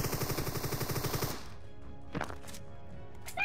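Rapid bursts of MK rifle gunfire in the video game PUBG Metro Royale, a quick rhythmic string of close, loud shots for over a second, then a few scattered distant impacts and clicks.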